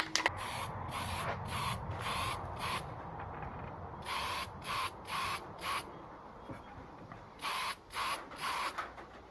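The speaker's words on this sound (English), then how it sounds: "So I'll just spray that with the second coat." Short hissing bursts of an aerosol spray can as a second coat of paint goes onto parts of a Sirius 747 Mk 2 blaster build, with several quick pulses coming in two clusters over a low background rumble.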